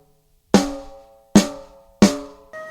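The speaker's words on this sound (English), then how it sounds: "you can use rim shots like this" Three sharp, ringing snare rim shots spaced evenly apart, loud and close, followed by a softer final stroke.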